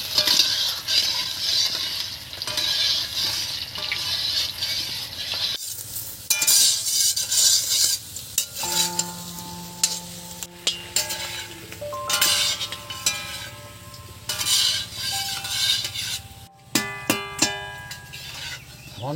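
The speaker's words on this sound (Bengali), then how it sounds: "আলুটা আমরা কিছুক্ষণ এটাকে লাল লাল করে ভেজে নেব।" Potatoes fry in a pan for khichuri, with crackling sizzle and scraping stirring, then clinking of a spatula against the pan, close and moderately loud without talk.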